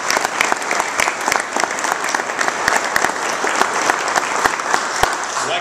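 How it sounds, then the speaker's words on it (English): A crowd at a tribute gathering for Joe Stephenson gives a round of applause, a loud, close, sustained clatter of many hands with sharp individual claps standing out throughout. "So let's give him a round of applause."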